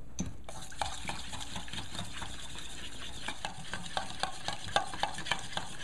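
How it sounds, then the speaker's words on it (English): Spoon stirring a sauce of soy, white sweet miso and chili flakes in a bowl for a Thai shrimp roll dip, a steady run of soft clinks and scraping taps, close and alone with no talk. "Then we're just going to mix that all up."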